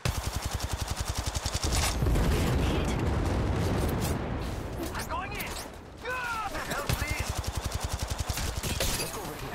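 Gunfire in the mobile video game Apex Legends Mobile, rapid automatic bursts rattling almost continuously with a dense, loud stretch of overlapping shots in the middle, with voice chatter over it.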